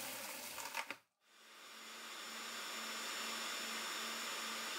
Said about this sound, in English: The milling motor runs at the lowest level and consumes around 140 watts of electrical